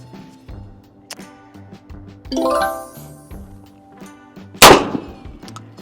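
A Mossberg 990 shotgun fires double-aught buckshot: one sharp, loud blast near the end, preceded by scattered metallic clinks and a ringing clang as the gun is handled.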